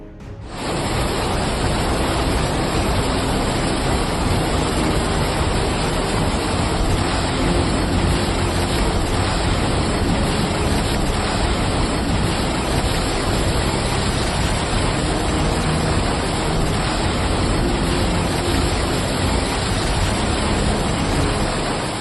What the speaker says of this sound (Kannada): ನೋಡುತ್ತಿದ್ದಂತೆಯೇ ಲಾಂಜ್ಗೆ ನುಗ್ಗಿದ ಮಳೆ ನೀರು